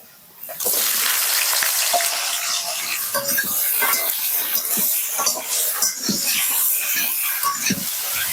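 Chopped taro stolons dropped into hot oil with whole cumin and bay leaf for a Bengali dish burst into a loud, sudden sizzle that holds strong and steady, with scattered crackles and stirring clatter.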